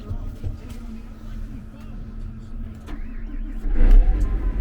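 A Cadillac engine cranks and catches near the end, rising into a louder rumble over a low idle-like drone, with a person talking before it starts.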